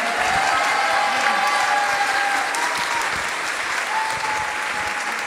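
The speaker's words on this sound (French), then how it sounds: "on peut prolonger nos applaudissements aussi pour Claire qui va traduire tout le culte de ce matin" A church congregation at a morning service applauds the translator Claire, with loud, sustained, dense clapping that holds steady throughout.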